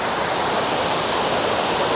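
A mountain river rushing through Yokoya gorge in Nagano, a steady loud broadband roar of flowing water with no breaks or voices.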